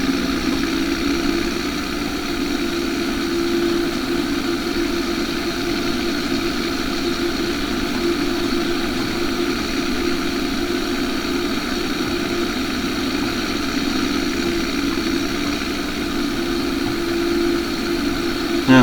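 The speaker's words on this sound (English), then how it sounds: "she's nice looking Teddon tractor there" Tractor engine idling, a steady, unbroken mid-low drone with a faint tonal whine running evenly throughout, moderately loud and close with no speech over it.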